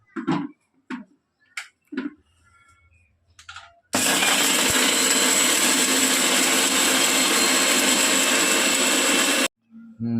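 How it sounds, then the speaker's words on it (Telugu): A few spoken words, then a loud mixer grinder whirs steadily for about five seconds grinding cloves and cardamom, before cutting off abruptly. "మిక్సీ పెట్టేస్తా"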